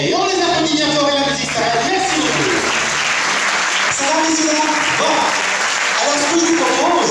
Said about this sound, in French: Et on les applaudit bien fort et la musique s'arrête.